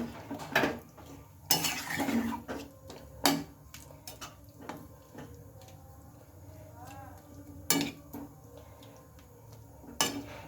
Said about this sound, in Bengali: এবার এটা একটু ভালোভাবে নেড়ে ছেড়ে নিতে হবে